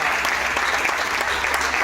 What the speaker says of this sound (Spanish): Aplaudo la presencia de Dios en esta hora